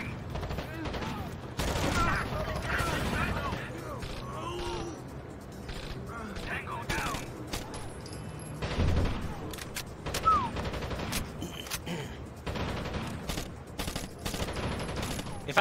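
Rainbow Six Vegas 2 gunfire, scattered bursts and single shots at moderate distance, spread through a long stretch and mixed with mechanical clatter and a voice talking.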